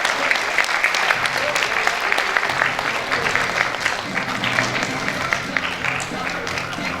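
A crowd at a youth party members' rally applauds steadily, dense hall-filling clapping that holds for several seconds, with faint voices and some background music beneath.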